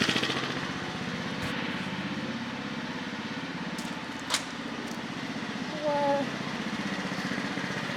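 Small go-kart engine running with the choke on, a steady close putter throughout with a couple of short bumps and clanks.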